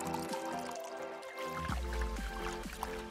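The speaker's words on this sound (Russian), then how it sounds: "Заливаем водичкой." Water poured into a bowl of powdered strawberries for doll-sized jelly treats, a steady, close liquid fill with a low gurgling rush building midway and continuing to the end.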